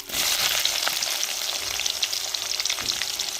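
Onions, mustard seeds and curry leaves frying in hot oil, a loud, dense, continuous sizzle with faint crackle, very close, with no one speaking.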